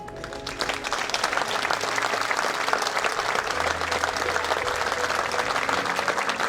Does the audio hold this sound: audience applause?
yes